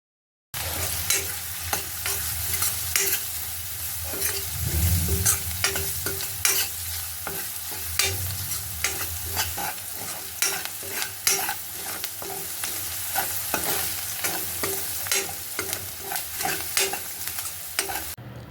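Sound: onions frying and being stirred with asafoetida

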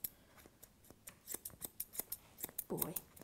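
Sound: scissors trimming dog hair

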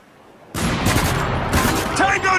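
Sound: gunfire in Spec Ops: The Line video game

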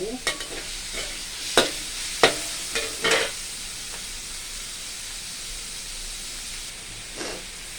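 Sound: stir-frying pork with curry paste

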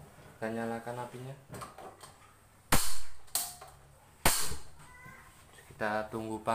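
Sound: gas stove igniter clicking to light the flame

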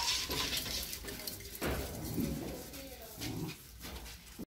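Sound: puppy whimpering

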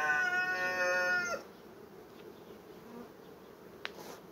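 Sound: honey bees buzzing around an opened beehive

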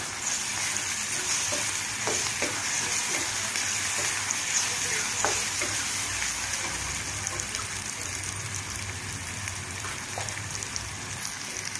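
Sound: frying ginger-garlic paste with onions

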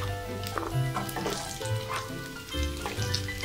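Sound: green chillies and onion added to frying chilli chicken

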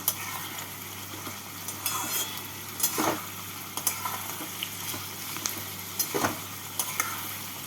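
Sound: onions frying in oil with salt

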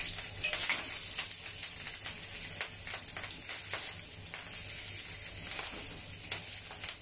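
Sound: pork belly frying in a pan after flipping

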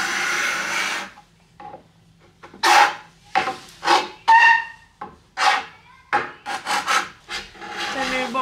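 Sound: scraping a wooden sofa with a scraper

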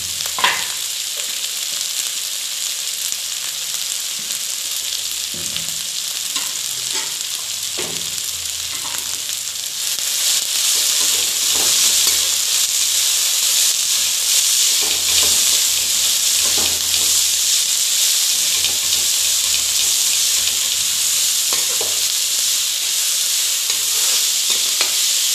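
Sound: frying leafy greens in a pan

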